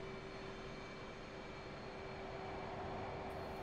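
An F-16 Viper jet engine in DCS World drones steadily as it spools up for takeoff, a constant loud roar with a sustained tonal whine and no voices.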